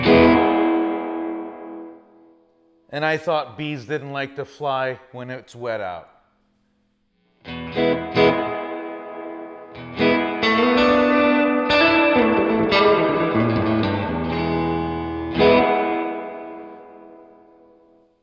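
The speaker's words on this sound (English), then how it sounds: "Totally fun, sounds great in every single setting. Plenty of reverb on here." Electric guitar played through a Carr Super Bee 1x12 amp with plenty of reverb, heard in bursts of chords and melodic lines between pauses, with someone talking over the start.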